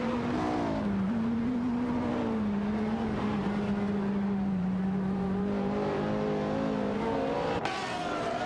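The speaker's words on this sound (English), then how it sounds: "maintaining pressure as they accelerate down the straight" Race cars in a racing game accelerate hard down a straight, their engines droning loud and continuous with the pitch stepping up through the gears, and no voices over them.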